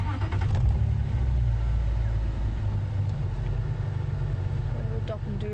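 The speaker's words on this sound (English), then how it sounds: "I'm just going to see what she's like when we start up the vehicle." A safari game-drive vehicle's engine starts up and settles into a steady, loud low rumble that runs throughout at close range, with faint voices in the background.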